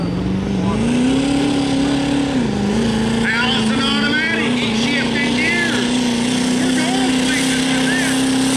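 A deep GMC Duramax diesel pickup truck engine rumbles steadily nearby with a droning pitch that rises slightly, while voices talk faintly over it.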